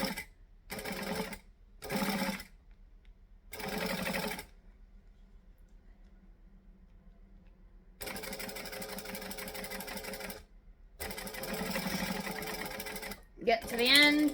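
A sewing machine stitching fabric runs in bursts: three short runs, a long pause, then two longer steady whirring runs, loud and close, with talking between them.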